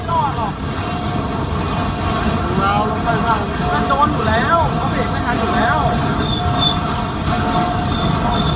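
A train rolls over the tracks nearby with a steady heavy rumble and squealing wheels, and a voice talks under the noise.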